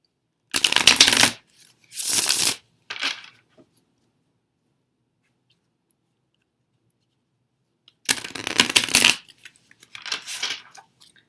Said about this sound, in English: these shuffle so beautifully